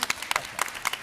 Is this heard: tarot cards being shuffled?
no